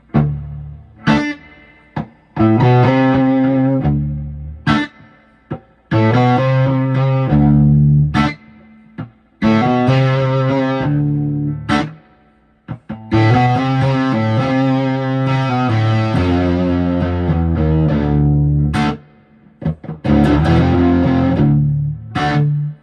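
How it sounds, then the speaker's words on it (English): 1996 Fender Telecaster Thinline '72 50th Anniversary, bridge pickup with controls on 10, played straight into a Fender DeVille amp with reverb and no pedals; loud chords and riffs in bursts separated by short pauses, with a bright crunchy tone. "This is going through a Fender DeVille with reverb plugged straight into the amp, no pedals."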